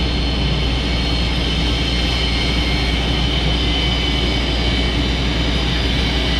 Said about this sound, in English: Okay, well, he's taxiing out.